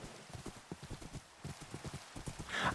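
A horse walking in Minecraft, its hooves clip-clopping in a quick, even rhythm up close, with a brief louder sound at the very end.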